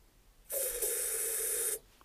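Easy-start aerosol sprayed straight down into the engine head of a Hayterette mower under repair: a single steady, close hiss lasting just over a second, starting and stopping abruptly, with no talk.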